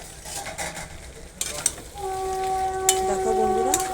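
Mutton sautés in a covered-then-opened pot, with a close frying sizzle, a few light spoon knocks against metal and a faint ringing tone near the end.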